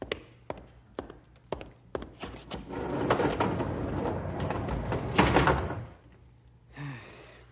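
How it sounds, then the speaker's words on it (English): Car doors thump shut in a run of sharp, close knocks, then a louder rushing stretch and a final heavier closing, heard alone without speech, as in an old radio drama. "Close the doors, Rube."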